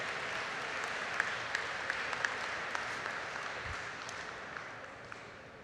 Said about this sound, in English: You should continue to applaud it.